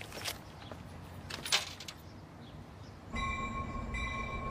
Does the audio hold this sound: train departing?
yes